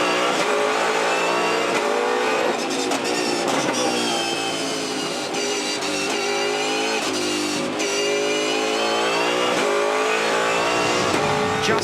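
Loud on-board 2015 V8 Supercars race car engine screaming at high revs at Winton, rising and dropping through gear changes and throttle lifts as the car slides, continuous and close.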